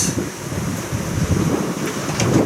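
Strong wind of about 25 knots buffeting a sailboat on the Mediterranean off France, a loud, continuous roaring gust noise with rumbling low buffeting and no voices.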